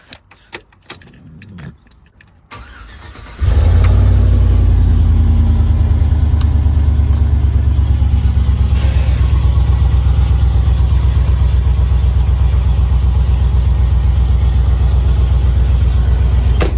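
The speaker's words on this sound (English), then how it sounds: "Let's get you guys a little cold start." A Chevrolet Tahoe cold-starts after a few seconds of keys jangling and quiet handling. Its engine catches with a sudden loud roar, then settles into a steady, deep, close idle that holds to the end.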